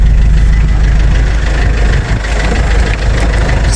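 A used car's engine idles steadily at a used car market in Fez, a loud continuous low rumble close by with a slight dip midway and no talking over it.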